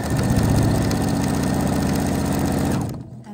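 Husqvarna Viking sewing machine running at speed, a loud, steady rapid mechanical whir close by that cuts off abruptly near the end, with no talk.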